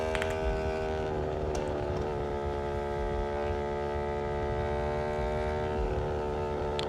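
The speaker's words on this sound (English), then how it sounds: "No, it's just accelerating. More acceleration." A vehicle engine accelerates in a loud, continuous drone with a strong humming tone that holds steady throughout, with no voices.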